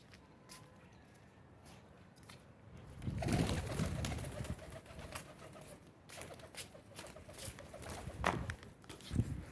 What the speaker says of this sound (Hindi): अभी कबूतर ऊपर उठाया था